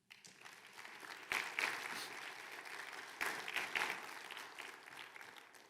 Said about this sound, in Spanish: ¿Le da un aplauso?